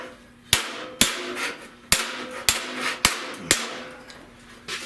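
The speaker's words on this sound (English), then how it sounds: "I can hammer up here just a little bit." Hammer blows on the rusted radiator support of a 1970 Buick Wildcat under restoration, seven sharp metallic strikes in a steady rhythm about half a second apart, loud and close, each with a short ringing decay, no talking.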